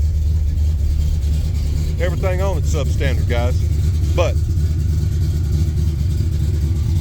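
A 1981 Ford Mustang Foxbody engine idles steadily at about 1100 rpm, a constant low rumble running the whole time while someone talks over it.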